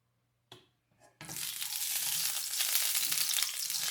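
Olive oil in a pan for sautéing onions for a slow cooker beef stew, a couple of soft clunks, then a loud, steady broadband sizzle that takes over and holds strong to the end, with no talk.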